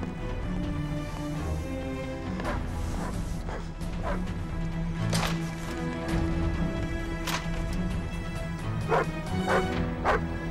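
A dog barks repeatedly with yips and whimpers, close and loud, over a dense background of music, with occasional crashes.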